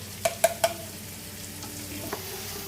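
Onion added to hot oil in a pan for a bottle gourd curry, a few sharp knocks at the start, then a steady soft sizzle close by, without talk.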